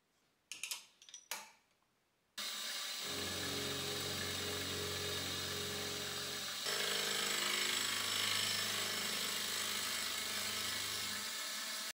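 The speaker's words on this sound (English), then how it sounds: "I'll clean them up by coming in from the other side with a reamer." A lathe running steadily while a reamer cleans burrs from a drilled part, a loud continuous whirring hum that shifts slightly in pitch partway through, preceded by a few short metallic clinks.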